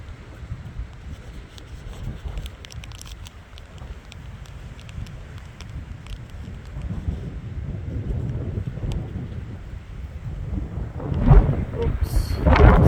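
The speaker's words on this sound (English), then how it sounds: "that's a good gust of wind" A strong easterly gust in Perth on New Year's, a low rumbling buffet that stays steady, then builds into louder, harder bursts near the end, with faint voices nearby.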